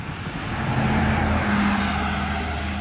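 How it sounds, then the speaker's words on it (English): A car travels along a scenic road, its engine and tyre roar rising to a loud, close, steady drone with a low hum, holding through to the end with no voices. "this is just going to be cars and campers and"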